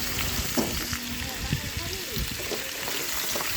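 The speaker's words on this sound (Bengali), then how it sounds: "গরম হয়ে গেছে, এখন সেদ্ধ করে রাখা কচুগুলো কড়াইতে দিয়ে দিচ্ছি।" Boiled taro (kochu) pieces frying in hot oil in a pan (kadai), a continuous loud sizzle with occasional stirring scrapes, while a person speaks over it.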